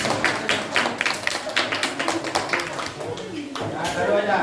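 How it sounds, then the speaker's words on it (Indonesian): Students in a classroom give a classmate a round of applause, a close patter of scattered claps over several seconds. A teacher's voice talks through it. "tepuk tangan untuk temannya"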